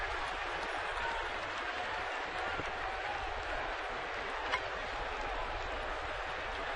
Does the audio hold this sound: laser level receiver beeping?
no